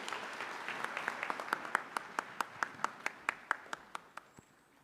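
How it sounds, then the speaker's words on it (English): Audience applause at a University of Nairobi graduation ceremony in Kenya, a steady run of distinct claps building and then tapering off over a few seconds, heard somewhat distant in a large hall. "May we applaud the Chancellor again."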